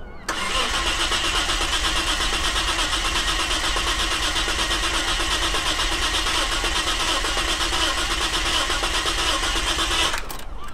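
An old Japanese vehicle's engine, its plugs pulled, oil put down the bores and fresh fuel added, turns over and catches, then runs loud and steady for about ten seconds before cutting off abruptly.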